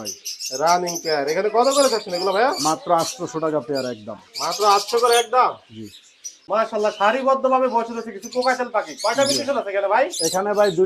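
Pet birds such as cockatiels and lories in a Mirpur bird shop in Bangladesh call in loud, rapid, close chirps and warbling whistles, nearly continuous with brief pauses.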